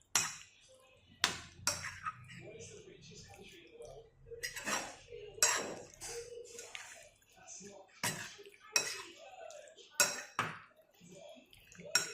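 A spoon stirs prawns coated in soy sauce in a bowl, giving a string of sharp metallic clinks and scrapes against the bowl at irregular intervals, with quiet gaps between them.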